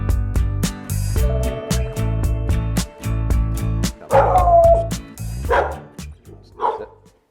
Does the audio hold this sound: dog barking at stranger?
yes